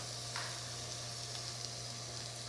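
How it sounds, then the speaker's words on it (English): Steady, faint crackling sizzle of duck breast frying in a pan, continuous with a low hum beneath it and no talking. "you still want that sizzle when it hits the pan"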